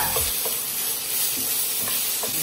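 Tuna hits a hot pan with aromatics and fries with a steady, bright sizzle close by, while soft scraping stirs come through every half second or so.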